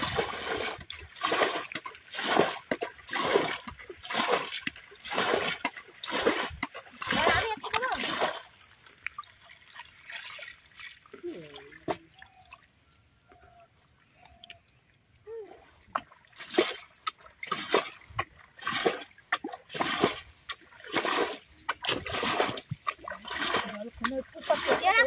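Water is scooped and splashed by hand out of a shallow wetland to catch fish, a repeated rhythmic series of close, heavy splashes that pauses mid-way for trickling and then resumes, with people talking.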